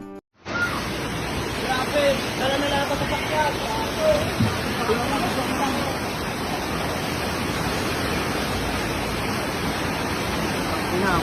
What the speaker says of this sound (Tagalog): Yan, lalaki ng baha.